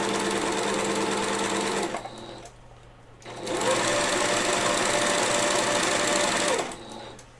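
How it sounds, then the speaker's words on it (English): Computerized sewing machine fitted with a walking foot, stitching in two loud steady runs of rapid needle chatter separated by a brief quiet pause. "The other thing that the computerized sewing machine will do is it will detect if your bobbin thread breaks"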